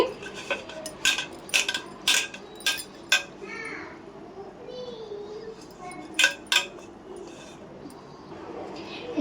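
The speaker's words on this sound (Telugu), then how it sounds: "ఇంకా వీటిని బాగా మిక్స్ చేసేసుకుంటున్నానండి" A spoon scrapes and clinks against a metal pot while curry for a fish fry and gravy is stirred, with short metallic taps in uneven bursts, a voice and bird coos faint in the background.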